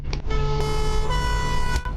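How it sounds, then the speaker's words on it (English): A two-tone siren fitted to a former fire service Land Rover Defender sounds loud and close, a steady sustained harmonic tone with a pitch change partway through, heard alone. "They left the two-tone siren."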